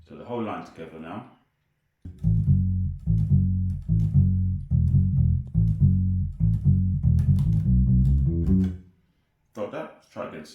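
A reggae bassline played on bass guitar as one whole line: a steady run of deep, rhythmic plucked notes, loud and close, with a voice talking briefly before and after.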